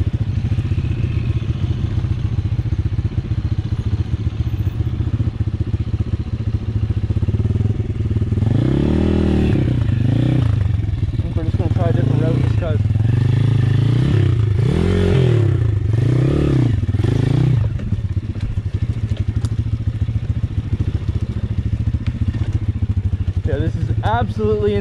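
A cheap Amazon pit bike engine revs repeatedly on a steep off-road enduro trail, loud and close, rising and falling in bursts with clattering and scraping over rough ground, while a rider talks over it.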